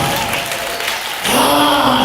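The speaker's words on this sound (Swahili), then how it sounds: "Piga makofi mazuri kwa Yesu mwana wa Mungu aliye hai." A church congregation breaks into loud clapping partway through, the applause swelling suddenly and holding steady after a quieter stretch of room sound.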